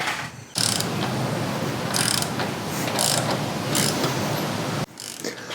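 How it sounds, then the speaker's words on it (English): A ratchet works the head bolts loose on a Caterpillar 3306 diesel engine, giving a close, steady run of rapid clicking that carries on for several seconds before stopping abruptly. "So I gotta take 1, 2, 3, 4, 5, 6 head bolts off, unfortunately."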